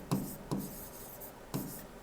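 A teacher writing by hand makes a few short, faint scratchy strokes at an irregular pace in a quiet room, with no speech.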